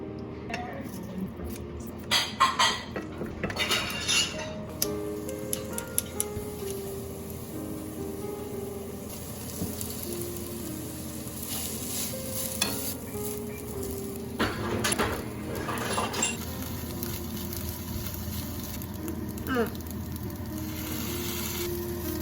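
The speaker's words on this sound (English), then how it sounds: "I'm gonna make kimchi fried rice because we got this kimchi from Costco" Kimchi fried rice, made with store-bought Costco kimchi, sizzles steadily in a pan, with occasional clinks of a utensil on cookware and stretches of background music and talking over the frying.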